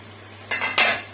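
Brief clinks and scraping of a spoon stirring garlic paste into chicken karahi in a metal pan, two short bursts close by over a quiet steady hum, with no talking.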